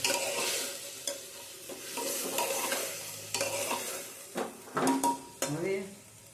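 Carrot and cauliflower with ginger and chili sauté in a pan, a soft sizzle under repeated scraping and clinking of a spoon stirring against the metal, close up, with a few sharper knocks toward the end and no talking.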